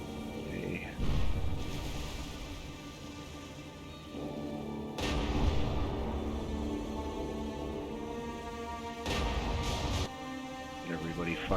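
Heavy naval guns of warships in the World War II naval game War on the Sea, set at the First Naval Battle of Guadalcanal, boom in several loud broadband blasts over a steady rumbling battle din, with a voice talking.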